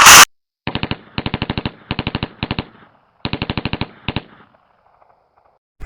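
A Tommy gun fires in rapid bursts at bandits, several quick rattling volleys separated by short pauses, loud and clean with no talking.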